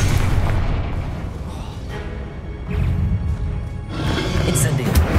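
Explosive blasts from the Confringo fire spell in Hogwarts Legacy, heavy low booms and rumbling bursts in quick succession, loud and close with a sustained roaring tail.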